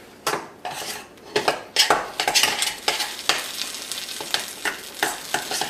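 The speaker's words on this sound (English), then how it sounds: "You can see it's kind of coming into a paste, but just keep stirring." A spoon scrapes and knocks around a pan in repeated, close strokes as a paste cooks and sizzles underneath.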